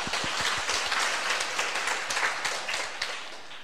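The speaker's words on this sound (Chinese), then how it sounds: "鼓掌。" An audience at a bilingual lecture-tour talk in Yunlin, Taiwan, claps together in a dense, even burst of applause that holds steady throughout, with no voices standing out.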